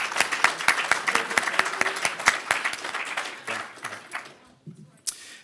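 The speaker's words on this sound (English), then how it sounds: "Should we give Heather a round of applause in her absence?" Audience at an awards presentation for quarrying students gives a round of applause, a burst of dense clapping that fades out after a few seconds, followed by a lone sharp tap.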